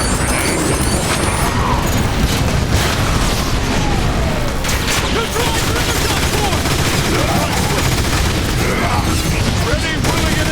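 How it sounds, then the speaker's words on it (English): Transformers War for Cybertron video game battle: dense, continuous gunfire mixed with booming grenade explosions, loud and unbroken throughout, with voices mixed in. "Autobot grenade."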